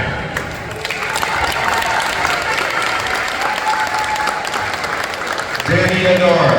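A crowd at a high school volleyball senior night cheers and applauds steadily for a senior player, with continuous clapping and a voice over the speakers near the end.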